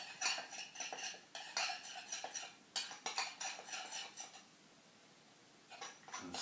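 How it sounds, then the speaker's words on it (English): A spoon stirs a homemade relaxing bath soak mixed with essential oil, making bursts of scraping, clinking strokes against the bowl that pause near the end and then start up again briefly. "And give that a stir."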